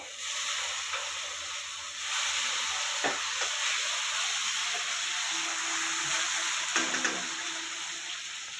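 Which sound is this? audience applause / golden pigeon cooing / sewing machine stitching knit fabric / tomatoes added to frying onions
tomatoes added to frying onions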